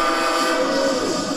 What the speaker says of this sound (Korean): 엄청나죠? 기적 소리가